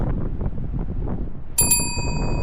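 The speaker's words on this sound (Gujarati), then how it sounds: "ખતરનાક પવન ચડ્યો છે" Strong wind on Australia's Great Ocean Road in Victoria buffets the microphone in a constant low rumble, and a bright metallic ding rings out partway through.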